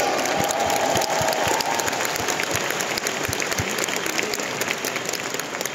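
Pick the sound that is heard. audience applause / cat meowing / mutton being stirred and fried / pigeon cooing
audience applause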